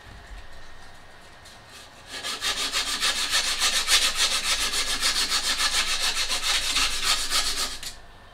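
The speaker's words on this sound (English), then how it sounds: "sand it in a shoe polishing motion, or if you're using the file, hit it at a 45-degree angle" A Misen kitchen knife spine is sanded or filed to soften its hard edge, producing a steady, rapid back-and-forth rasping scrape after a quiet start, close and loud, with no speech.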